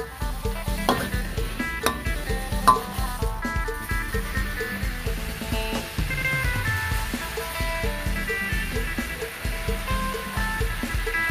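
Minced lean pork stir-frying in a hot pan for Korat-style fried noodles, a steady close sizzle with scraping and stirring clatter throughout, over a continuous background of music.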